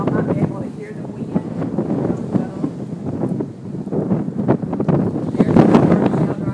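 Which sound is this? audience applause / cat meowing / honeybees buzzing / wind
wind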